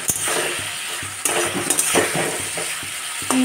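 Coriander and cumin powder are stirred into fried spice paste in a pan, a close, busy sizzle overlaid with utensil scrapes and metallic clinks at irregular intervals.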